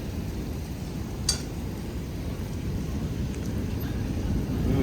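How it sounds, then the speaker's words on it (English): Strong wind roars in a broad, steady rush during a thunderstorm with rain in Plano, Texas, and a brief faint clink cuts through once. "So windy."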